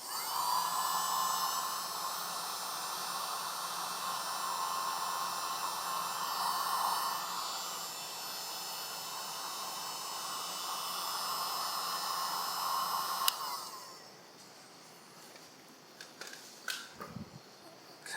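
A heat gun shrinks heat shrink tubing on small motor wires, blowing a steady, close whining hiss with a faint hum, then switching off, leaving quiet handling clicks and light knocks.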